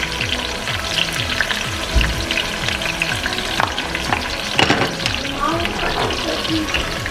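Callaloo and vegetables cook in a pot on medium heat, giving a steady close sizzle with stirring and watery bubbling.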